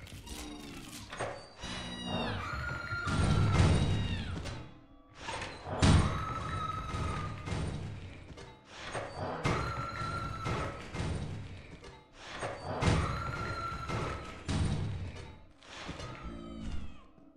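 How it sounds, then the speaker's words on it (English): Door in Lethal Company slammed shut again and again on the Maneater monster, repeated thuds and slams in bursts, with the creature's cat-like cries and meows rising between them, fairly quiet overall. "you're just going to spam E on the door"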